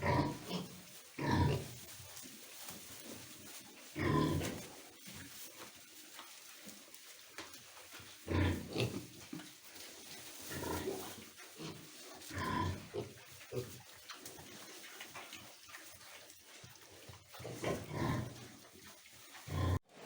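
Pigs eating hay in a barn grunt and snuffle up close. Rustling and chewing noises mix with irregular bursts of oinking, some loud and some soft, with no talking.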